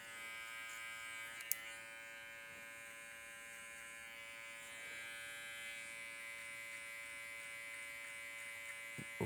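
Electric hair clippers with no guard fitted run through a taper haircut, a steady, thin motor buzz holding low and even throughout with faint cutting texture and no voices.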